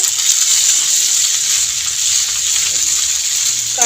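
Food being stirred in a pan on a gas stove, a loud continuous hissing sizzle that stays even and close throughout, with no voice heard.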